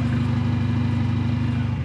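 Exhaust of a 2017 Mercedes-Benz A45 AMG at idle, a close, steady burble with a rapid, even pulsing rhythm and a rough, crackly texture, with no talking.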